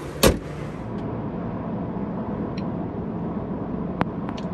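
A Whipple supercharged 2021 Ford F-150 with a 5.0L V8 and Stage 2 tune cruises on a steady low rumble of engine and road noise, with a sharp loud thump near the start and a few faint clicks later.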